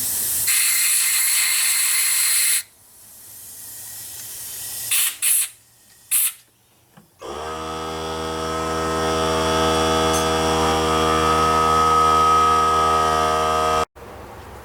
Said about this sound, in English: my air compressor has finally stopped making a racket filling itself back up